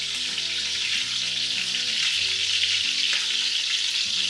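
Oxtail sizzles steadily in a hot pan, a dense, continuous frying hiss that stays close and loud throughout, with low clatter underneath and no voices.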